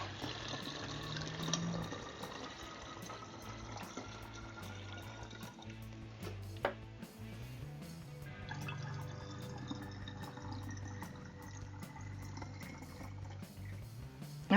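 Water poured from a measuring cup into a 16-ounce plastic spray bottle for a homemade pet coat deodorizer, a continuous close trickle and gurgle with small drips, no talking.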